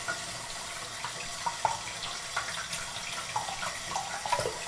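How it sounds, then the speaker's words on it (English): Tap water runs steadily over gold chains being rinsed at a sink, a continuous close hiss with small splashy bursts as the stream hits the metal, no voices. "Alright, I'm going to turn off the water for a moment."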